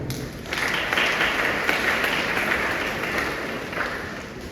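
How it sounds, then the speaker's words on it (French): Audience applause at a school's centenary launch ceremony, a broad sustained clapping of many people that swells after a quiet start and carries on evenly, heard from within the crowd. "je demande que vous applaudissez à nous aussi"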